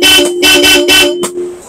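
A Bosch Europa aftermarket horn on a Honda ADV160 scooter honks loudly three times in quick succession, followed by one short final toot, close and bright.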